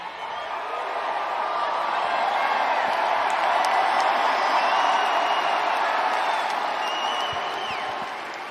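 Arena crowd of fans cheering and clapping on banner night, a steady broad roar that swells and holds loud through the middle before easing slightly, with scattered shouts and whoops rising out of the din.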